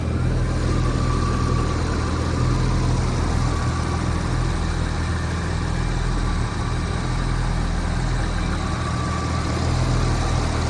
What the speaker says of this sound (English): Hear the motor.